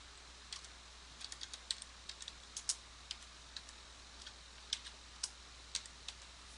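Someone types a search on a computer keyboard: scattered, quiet keystroke clicks come in short irregular runs with pauses between, close to the microphone in a quiet room.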